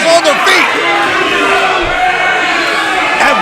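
A wrestling crowd on its feet after a kickout, cheering and yelling with a loud, restless roar, while excited commentary voices run over the noise.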